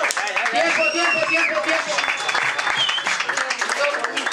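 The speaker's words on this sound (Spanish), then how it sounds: "Para ellos todos un aplauso." Crowd clapping and cheering at a freestyle rap battle, dense applause running throughout while a host speaks loudly over it.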